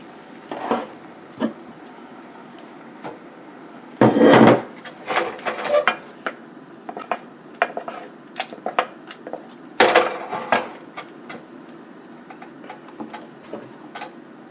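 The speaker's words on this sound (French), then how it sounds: "Je laisse légèrement chauffer et j'ajoute le gombo pour cuire le gombo." Okra is stirred and cooked in hot oil in a pot for a Cameroonian yellow okra soup. A spoon scrapes and knocks against the pot in irregular bursts, with two louder clatters, over a low steady background.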